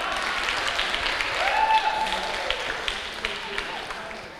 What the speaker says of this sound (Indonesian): Tepuk tangan untuk kantor semua.